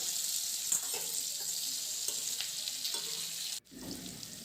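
Fried vegetables sizzle in a pan with roasted whole spices as they are stirred, giving a steady crackling hiss with light scraping clicks that stops abruptly near the end, leaving a softer sizzle.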